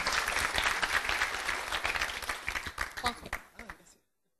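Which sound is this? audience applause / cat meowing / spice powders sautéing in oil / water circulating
audience applause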